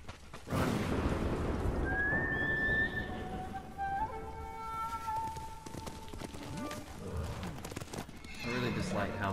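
A video game horse lets out a loud whinny, then hooves clip-clop at a run, with a voice talking over the sounds.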